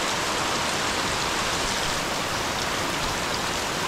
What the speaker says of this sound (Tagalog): Kasi lakas talaga ng ulan, no?